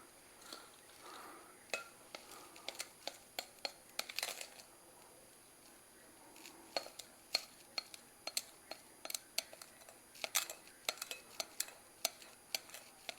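A metal spoon clinks and scrapes repeatedly against a container while stirring a chocolate dry mix, sharp close ticks in irregular clusters, with a quiet voice speaking at times.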